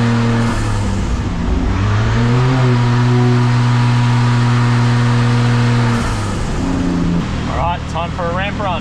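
Turbocharged Lexus IS200 with a 1GFE engine on a dyno ramp run, a loud close engine climbing steadily in pitch and holding a sustained rev, then easing off near the end with turbo flutter.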